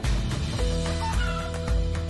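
Several chickens clucking and murmuring close by, short repeated calls overlapping in a busy, continuous flock chatter.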